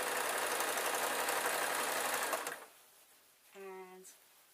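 Domestic sewing machine stitching a quilt backing runs steadily and loudly for about two and a half seconds, then stops, leaving a brief voiced sound near the end.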